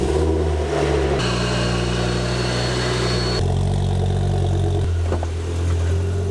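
A 150,000-mile Ford Focus RS Mk2 engine runs steadily at idle, with a deep, continuous mid-range hum and a shift in tone partway through, loud and close with no talking.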